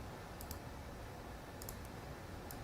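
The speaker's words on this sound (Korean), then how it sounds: "클릭." Quiet, sharp mouse clicks from someone working in Adobe Substance software, a few isolated taps and quick double clicks over a low, steady room hiss.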